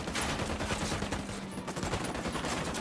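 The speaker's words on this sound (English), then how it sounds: "I'm shooting these fuckers." Rapid, continuous gunfire in a video game, a dense rattle of overlapping shots and bursts at a moderate level with no pauses.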